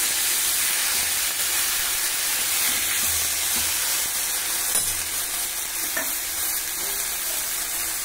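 Dal is poured into a hot tempering of chukkakura (sorrel leaves) fried in oil with dried and green chillies, setting off a loud, steady broadband sizzle and hiss that holds up close for the whole stretch, with no talking.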